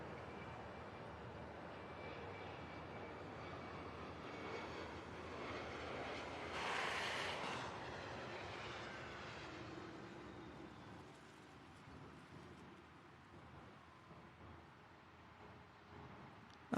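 A McDonnell Douglas MD-11 jet lands at Louisville's SDF airport, a steady, fairly distant roar of engines that swells briefly with a brighter rushing surge midway before settling into a lower rumble.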